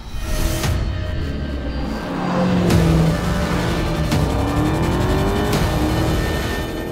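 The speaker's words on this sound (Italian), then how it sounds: "sentire il sound del motore V8 EMI è qualcosa di davvero imperdibile" A Dodge Challenger Hellcat V8 engine revs and roars continuously, rising in pitch with rhythmic gear-like shifts, loud and close.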